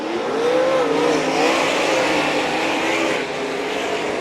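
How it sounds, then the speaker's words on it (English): Sprint cars racing around a dirt track at St. Croix Valley Raceway, a dense steady engine roar of the field at a distance, with a faint rising whine drifting over it. "Graff about a lap away from catching up to the tail of the field in the form of the 91A of Reed Alex"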